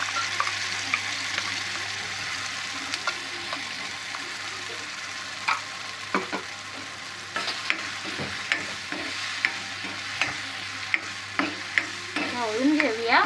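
Garlic and ground masala paste sizzle in hot oil with a steady frying hiss, broken by scattered clinks and scrapes of a spoon stirring in the pan, louder stirring toward the end.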